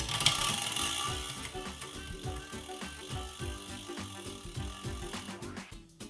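A bicycle crank is turned by hand while a Shimano Di2 electronic derailleur shifts gears, giving a steady run of repeated freewheel clicks and chain rattle, close and fairly quiet, with no voices.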